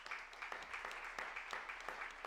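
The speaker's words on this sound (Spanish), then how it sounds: "os pido un aplauso para ella" Audience applause at a round-table event on Andalusian food culture, a steady faint patter of clapping with small rhythmic swells, heard at a distance.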